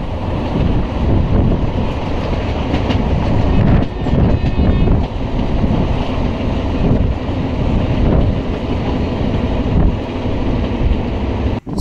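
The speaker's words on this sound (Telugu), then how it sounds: "ఫ్రంట్ వచ్చేసి ట్రైన్ దూపాడు స్టేషన్కి అయితే ఎంటర్ అవుతుంది" A train rolls into a station near Dhone on the Kurnool–Dhone line during double-line works, a steady loud rumble of wheels and carriages with gusts of wind buffeting the microphone throughout.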